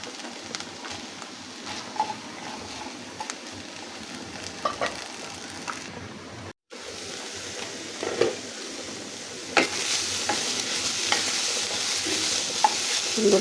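Garlic, spring onion stalks, green chillies and dried red chillies fry with a steady sizzle in a pan, stirred now and then with scraping utensil clicks and taps, brighter and louder in the second half after a brief cut.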